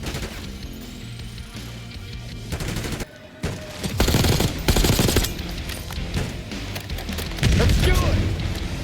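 An automated sentry turret in the Black Ops 6 video game fires in sustained bursts, dense rattling gunfire with booming impacts, loud and close, briefly cutting out before resuming over battlefield noise and shouted voices.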